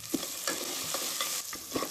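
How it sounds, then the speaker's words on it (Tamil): Vegetables and onion sauté in a pan with salt, giving a steady close sizzle broken by a few soft scraping stirs, with no voices. "ஒரு பாதி அளவு வந்து வதங்கினா போதும் இந்த காய் வெங்காயம் எல்லாமே"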